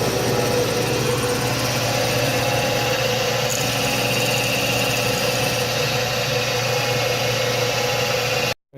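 A manual lathe cuts a connector jack screw, giving a steady, continuous machine hum and whir close by that holds evenly throughout before stopping abruptly at the end.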